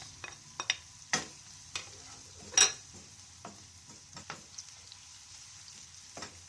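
Peppers tipped into softened onions frying in a pan for a chicken main dish, giving a quiet, steady sizzle with scattered sharp clatters and scraping stirs, the loudest clatter midway.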